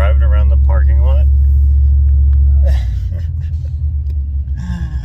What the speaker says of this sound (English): I am driving around the parking lot.